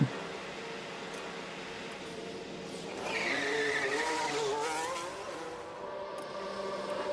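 A Ferrari Formula 1 car in F1 Manager 24 pulls out of the garage, a steady engine drone with a rising, whining rev and faint tire noise, heard at moderate distance.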